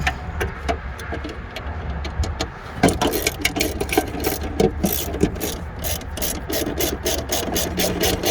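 Hand ratchet clicking rapidly while tightening side marker lamp screws on a C4 Corvette, close and crisp, starting slowly then speeding into dense bursts of pawl clicks with no talk.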